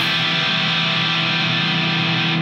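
Electric guitar with the other strings left unmuted, ringing together in a dense, sustained, distorted wash that stays loud and unbroken for a couple of seconds.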